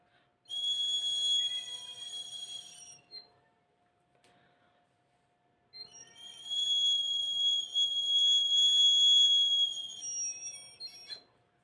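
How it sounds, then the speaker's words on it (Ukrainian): A traditional Ukrainian clay whistle (svystulka) gives two long, shrill, steady tones separated by a pause of near silence, the second blast longer and wavering slightly before it cuts off, heard close and alone. "зараз буде такий звук, це така свистулька, яка також складає музику вітру, яка несе такі звістки"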